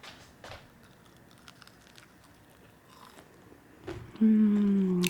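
A single bite into a peppermint chocolate mochi muffin, a close, soft crunch that follows quiet handling noises, then gives way to a brief sustained tone at the end.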